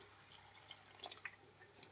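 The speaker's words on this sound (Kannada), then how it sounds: "ಒಂದು ಅರ್ಧ ಗ್ಲಾಸ್ ಅಷ್ಟು ನೀರು ಹಾಕ್ತಾ ಇದ್ದೀನಿ." Half a glass of water poured into a pan of cooking capsicum palya seasoned with chicken masala, giving a faint, close trickle with a few light drips and splashes over quiet kitchen background.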